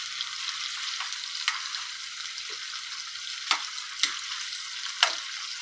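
Seafood for a seafood boil frying in oil in a non-stick pan, giving a constant close sizzle with a few sharper crackles and pops breaking through.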